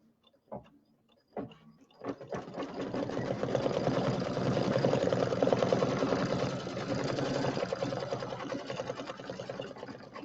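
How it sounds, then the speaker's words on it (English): An embroidery sewing machine stitches metallic satin stitches in a steady, close mechanical whir after a couple of clicks, running continuously at moderate loudness without talk. "So I'm going to put my foot down. It's cooled off, and we're going to do the satin stitches."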